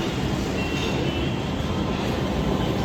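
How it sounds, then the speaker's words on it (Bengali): Kolkata Orange Line metro train pulling into the platform at Ruby station, a steady broadband rumble and rush of wheels and air filling the platform, loud and continuous with no talk. "দেখতে দেখতে আমাদের ট্রেন এসে গেল।"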